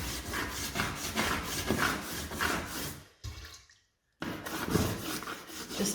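A toothbrush scrubs the cracks and joins of a floor with sugar soap water, a close, rhythmic wet rubbing with scratchy strokes and faint dripping. The scrubbing stops briefly for about a second and then resumes just as steadily.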